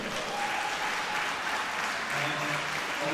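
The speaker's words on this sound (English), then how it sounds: "massive, massive round of applause for them" Audience applause at an Australian powerlifting nationals medal presentation, honouring the volunteers and officials: a dense, steady wash of clapping from a sizable crowd, sustained at even loudness throughout.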